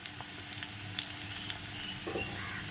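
Garlic added after onion in hot oil for a village-style small fish dish keeps up a soft, even frying hiss, with a few faint crackles and pops.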